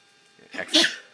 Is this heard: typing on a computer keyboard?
no